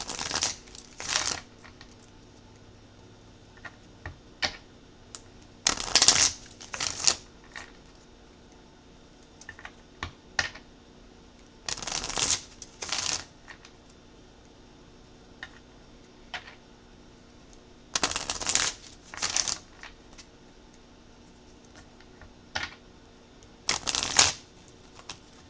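Cards shuffled in several distinct bursts of riffling, each a couple of seconds long, separated by quiet pauses; close and crisp, with no talking.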